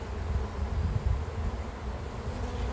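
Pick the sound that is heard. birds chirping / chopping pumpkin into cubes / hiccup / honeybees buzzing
honeybees buzzing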